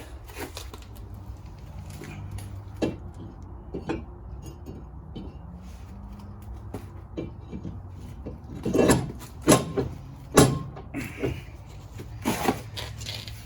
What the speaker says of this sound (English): let's put the rotor on